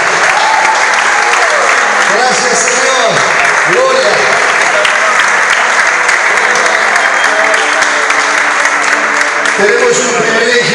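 Sustained, loud applause from a church congregation during a sermon, dense clapping filling the whole span, with voices calling out faintly underneath.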